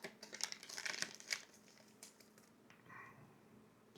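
A red dot sight is pulled from its plastic bag, giving a burst of close crinkling and rustling in the first second and a half, then softer scattered handling noises with no talk.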